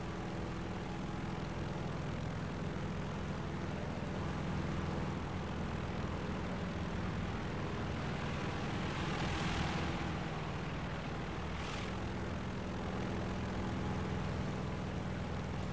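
A damaged M.B.174A-3 aircraft engine, shot up and leaking fuel and oil, runs in War Thunder with a steady, droning propeller roar that holds constant throughout at moderate level, a brief whooshing swell passing midway, no voices.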